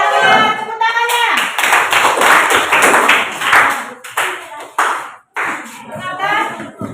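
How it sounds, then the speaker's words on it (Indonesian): A classroom of students claps hands in repeated rhythmic bursts, loud and close, with short pauses between rounds and brief voices mixed in. "Tepuk tangannya."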